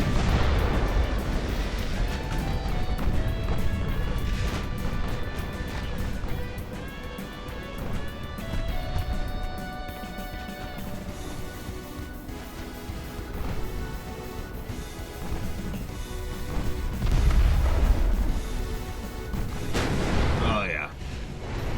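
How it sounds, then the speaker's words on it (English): A ship's ammunition magazine detonates in the naval warfare game Ultimate Admiral Dreadnought, with heavy booming blasts and crashes layered over continuous game music and sustained battle noise. "Ammo detonation."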